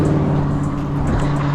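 A car on the road near Woodward, a steady close engine hum with a droning low tone held throughout the short moment.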